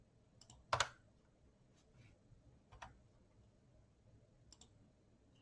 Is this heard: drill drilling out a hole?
no